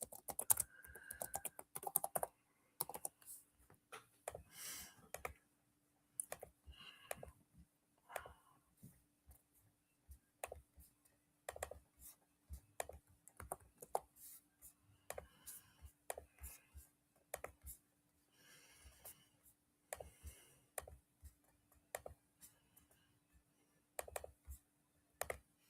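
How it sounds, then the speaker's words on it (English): Typing on a computer keyboard, with quick bursts of close, crisp key clicks separated by short pauses, running steadily in a quiet room. "I'm so happy to be typing this."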